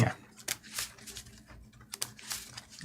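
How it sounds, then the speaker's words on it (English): Flesh and Blood trading cards being shuffled by hand in a series of quick riffling bursts, crisp and close, with faint voices in the background. "I'm still over here shuffling"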